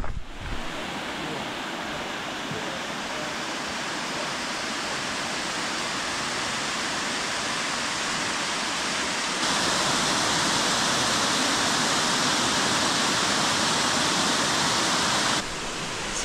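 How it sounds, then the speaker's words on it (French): Continuous rushing water from small roadside waterfalls in New Zealand roars steadily with no pauses, a dense broad wash of splashing that grows slightly louder partway through. "Regardez ces petites cascades à 5 minutes à pied au bord de la route là."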